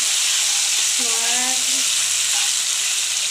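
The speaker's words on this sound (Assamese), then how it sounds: "ইয়াত আমি অথনি বইল কৰি থোৱা চাওমিনখিনি দি দিছোঁ" Boiled chow mein noodles tossed into a pan with tomato sauce give a loud, dense, continuous sizzle close by. A brief tonal vocal sound rises over it midway.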